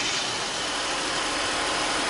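Opel Corsa B three-cylinder Swing engine running on a workshop stand, a steady, close idle hum that holds evenly with no talk over it.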